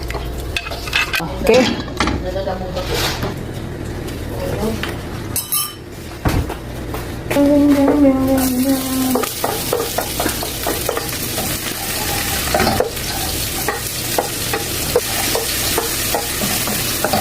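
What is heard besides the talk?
garlic, ginger and onion sautéing in pan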